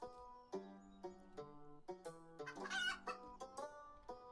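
Chickens cluck in a Terraformers-style farming video game, a busy run of short repeated clucks and squawks at close range, with no talk over them.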